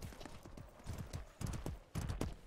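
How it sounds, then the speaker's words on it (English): Horse hooves trotting in the medieval combat game Mordhau, a quick, rhythmic clip-clop of repeated hoof strikes, close and clear over faint background noise. "Oh, that's an enemy horse."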